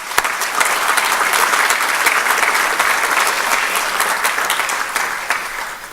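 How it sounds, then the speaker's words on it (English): A large audience at a city's State of the City address applauds the awardees, steady dense clapping filling the whole stretch at full strength without pause. "How about another round of applause for all the awardees?"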